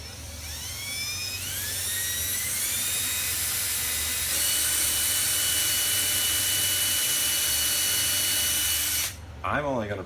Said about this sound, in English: So here you go, pre-drilling.